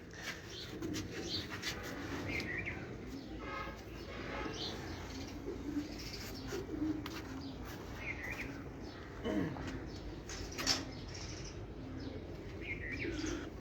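Racing pigeons coo and chirp faintly on a rooftop in Punjab, with occasional wing flaps in a noisy open-air setting and little talk.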